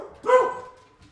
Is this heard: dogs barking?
yes